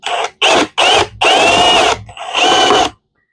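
An electric drill drilling out a rivet on a Lifetime Tamarack Angler kayak whines in five short bursts, starting and stopping in quick succession before falling silent.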